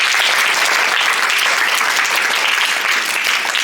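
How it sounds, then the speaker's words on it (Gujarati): Schoolchildren at a primary-school science day quiz break into steady, loud group clapping for a correct answer, a dense continuous patter of many hands filling the room with no talk over it. "તાળી પાડજો બધા."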